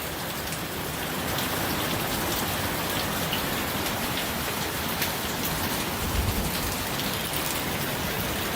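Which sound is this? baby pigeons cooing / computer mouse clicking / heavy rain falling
heavy rain falling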